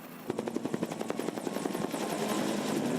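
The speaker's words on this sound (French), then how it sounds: "les hélicoptères bombardiers d'eau enchaînent les largages pour tenter de stopper l'avancée des flammes" Rapid rhythmic blade thump of water-bombing helicopters flying over a wildfire near a small town in South Africa's Cape region, loud at first and then blending into a steady, slightly distant rotor roar.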